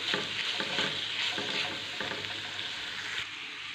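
Chicken, cuttlefish and octopus sauté in a pan for a fish pastilla, a steady close sizzle with rhythmic stirring scrapes about every half second.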